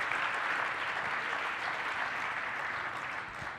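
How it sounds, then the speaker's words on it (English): A summit audience gives a sustained round of applause, dense and even clapping from a large crowd heard at a moderate distance, slowly tapering near the end. "Let's give a round of applause, guys."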